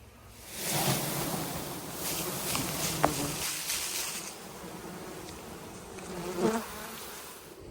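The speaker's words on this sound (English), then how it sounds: "Let's try to get this swarm in this box." Dense buzzing of a honeybee swarm being shaken into a long hive box, a steady drone with a couple of brief thumps from the box, fairly close and no talk.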